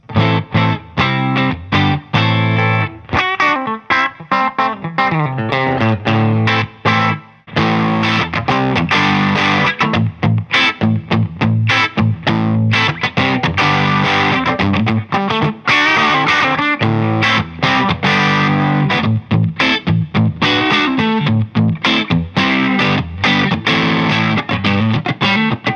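A Telecaster electric guitar runs through a VS Audio JangleMaster pedal into the clean channel of a Rev D40 amp, giving loud, continuous chiming strummed chords with a slightly crunchy edge and a brief pause near the seven-second mark.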